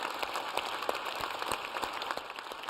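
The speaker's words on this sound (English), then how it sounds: "Give yourselves a round of applause" An audience claps at the Regeneron Science Talent Search 2025 awards ceremony, a dense, even patter of applause heard from a distance at moderate-to-faint level, steady throughout.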